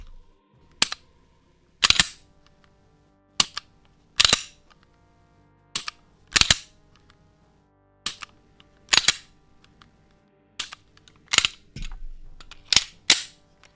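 A gun dry fired for ASMR, sharp isolated metallic clicks and snaps in close succession, about a dozen spaced irregularly over quiet gaps, some doubled.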